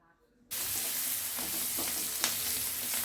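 Spices and turmeric tempering in hot oil for masoor dal start abruptly into a loud, even sizzle, with occasional stirring scrapes and small pops close up, and no one speaking.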